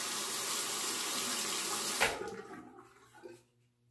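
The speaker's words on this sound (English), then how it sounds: "let me rinse again here" Tap water runs steadily while a safety razor is rinsed at a bathroom sink, the broadband splash cutting off at the halfway point, followed by a few drips and small knocks before quiet.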